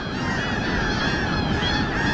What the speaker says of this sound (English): This is what these seagulls sound like when they're all just come back in for a big landing.